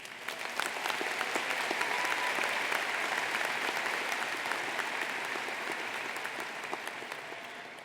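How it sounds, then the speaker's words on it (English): At a 2014 School of Management convocation, the audience gives graduates' families and friends a round of applause: sustained, full-room clapping that swells early and then slowly tapers, with no speech over it. "Let's give all of those family and friends a round of applause."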